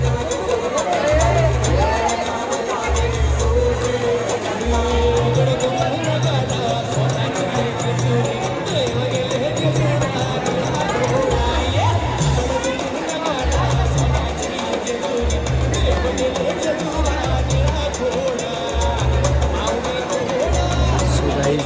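Dense crowd of pilgrims at the Jejuri temple on New Year's Day, a steady loud hubbub of many voices with rhythmic low drumming or thumping and people talking nearby throughout.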